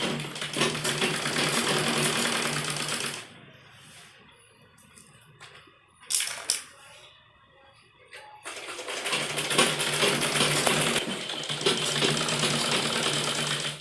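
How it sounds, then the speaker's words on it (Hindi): A sewing machine stitches along the folded edge of a churidar pajama in two long, steady, loud whirring runs. A quieter pause in the middle holds a brief handling noise before the motor starts again. "और इसको थोड़ा थोड़ा अंदर की तरफ फोल्ड करते हुए हम यहाँ किनारे पर सिलाई लगाएंगे"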